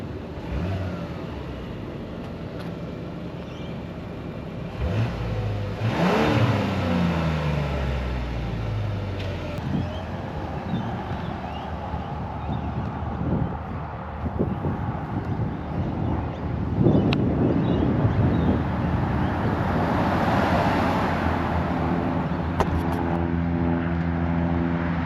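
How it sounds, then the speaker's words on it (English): A 2025 Mazda CX-90 SUV being driven, with a steady interior engine hum and road and wind noise that rises as it accelerates, continuous and without talking. "let's get behind the wheel and take this thing for a drive"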